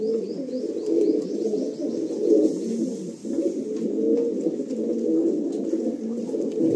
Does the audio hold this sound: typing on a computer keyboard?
no